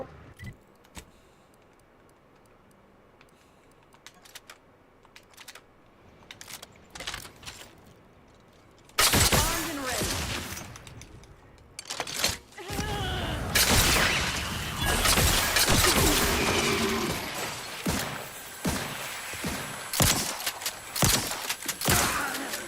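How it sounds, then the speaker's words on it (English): Shotgun fire from The Outer Worlds 2 booms in loud, dense blasts after a quieter stretch of faint clicks and ticks, followed by ongoing impacts and clatter. "this shotgun is so good"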